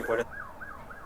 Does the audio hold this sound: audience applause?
no